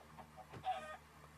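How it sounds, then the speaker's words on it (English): A chicken in the video game Minecraft gives a brief, fairly close cluck, a single short call standing out over a low steady background hum. "Oh, hello chicken, I need you as well."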